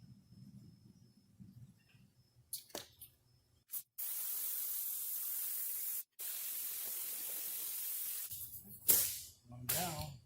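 Contact glue sprays from a can onto a 1975-79 Lincoln Continental Town Car door panel in two long, loud, steady hissing bursts with a brief gap between them. Low sounds of handling come before and after.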